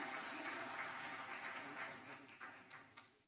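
Applause from an audience for honoured guests at a memorial gathering for Haji Hakeem Abdul Hameed, a steady, fairly faint patter of many hands clapping that thins out toward the end, with a few sharper individual claps.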